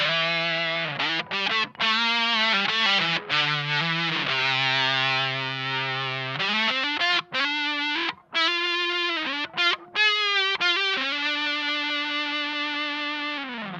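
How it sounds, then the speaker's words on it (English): Psychedelic electric guitar lead lines run through a modulation pedal with added fuzz: quick choppy notes giving way to long sustained bends, saturated and close, with no voice. "get some pretty psychedelic kind of lead tones out of it."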